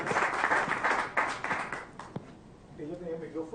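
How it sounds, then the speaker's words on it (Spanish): An audience at a human rights conference claps to welcome the bank superintendent, a brisk patter of hands that thins out and gives way to someone speaking. "Le damos la bienvenida con un aplauso entonces al superintendente de bancos"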